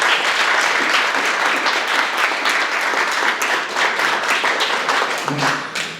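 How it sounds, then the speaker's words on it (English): A live audience at a speaking event gives a round of applause as a guest speaker is introduced. The clapping is loud and sustained and carries on almost to the end with no talk. "let's give him a round of applause"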